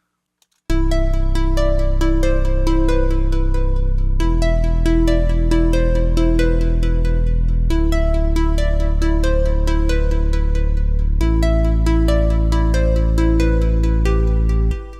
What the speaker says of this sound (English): And if we combine it with the bass patch that we had programmed back in Module 2, it sounds like this when combined.